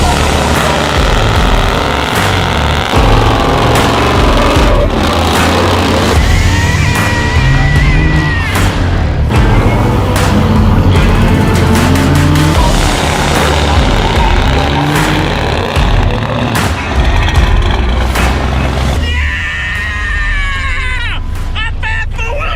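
A 1000HP Cummins-powered Ford Ranger running in four-wheel drive, its engine rumbling and revving continuously beneath a crowd's chatter and shouting voices.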